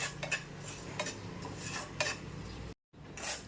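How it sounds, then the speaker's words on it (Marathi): Dry semolina (rava) roasting in a pan for karanji filling, with repeated scraping and clinking strokes of a spoon against the metal, close and steady, with a brief silent gap near the end. "इथं रवा आहे तो मी भाजून घेते"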